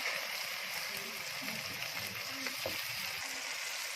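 Garlic and ginger paste frying with onions in a pan gives a soft, continuous sizzle with a few faint stirring scrapes.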